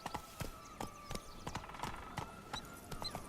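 The horse Roach's hooves clip-clopping at a steady walking pace in the video game Witcher 3, with crisp, evenly spaced hoof strikes over faint ambient background.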